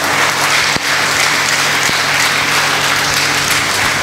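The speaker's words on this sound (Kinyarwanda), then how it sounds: "Mukomere Imana amashyi." A church congregation claps loudly and continuously in praise, a dense, even wash of applause from many hands filling the room.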